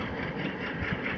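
An Alco diesel locomotive engine idles steadily nearby, a continuous low rumbling drone with a mechanical throb and no talk.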